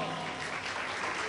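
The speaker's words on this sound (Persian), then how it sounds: "منو اگر اینجوری تشویق کنید اجرای برنامه نمی کنم" Dense, steady applause from a concert audience fills the room, loud and continuous throughout with no pauses.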